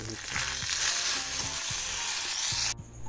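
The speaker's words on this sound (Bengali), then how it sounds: "এই পিঠেগুলো ভাজা হবে, এগুলো হচ্ছে।" Pitha cakes frying in hot oil in a home kitchen make a steady, bright sizzle that holds evenly, with soft rhythmic knocks and stirring underneath, before the sizzle drops sharply near the end.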